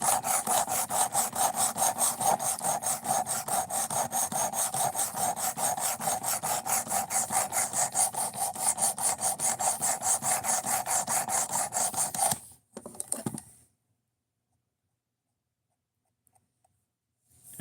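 A knife edge being sharpened by filing to raise a burr, a steady rapid rasping of back-and-forth strokes for about twelve seconds, then a few scrapes before silence.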